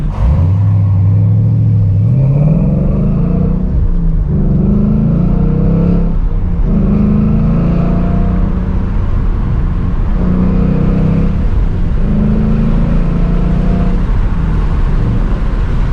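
Ford Mustang GT fitted with a lightweight clutch assist spring, engine droning loud and close as it accelerates, its pitch climbing and then dropping at each of several gear shifts across steady driving noise.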